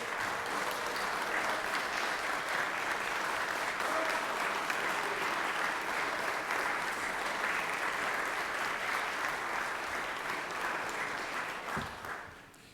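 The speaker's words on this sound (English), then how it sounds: "Give him a round of applause, ladies and gentlemen" Sustained applause from a crowd in a state legislative session, steady and fairly loud, clapping continuously before tapering off near the end.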